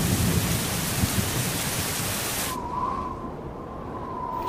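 Steady, heavy rain pours down in a dense hiss, then cuts to a much quieter background with a faint tone.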